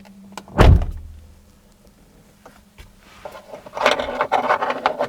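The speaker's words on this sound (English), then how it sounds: "When you open and close the driver's door" A car's driver's door is opened and shut: a sharp, loud slam near the start, then quieter clicks and rattling handling sounds toward the end, with no talking.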